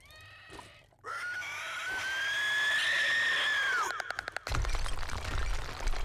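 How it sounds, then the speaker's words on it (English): A zombie in the 7 Days to Die video game lets out a long, rising, piercing scream of several seconds, then breaks into rapid teeth-clenching clicks and a harsh chittering rasp, loud and close. "he does the scream and then it sounds like he clenches his teeth. He does the chittering sound"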